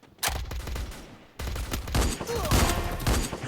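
Rapid bursts of gunfire from the mobile battle-royale game Free Fire, including sniper-rifle shots, fire loud and continuous with a brief lull in the middle, with faint talk underneath.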